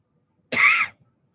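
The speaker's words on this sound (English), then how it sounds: "Sorry for the cough." A single short, sharp cough bursts out once, close and fairly loud, then stops abruptly, leaving near silence on either side.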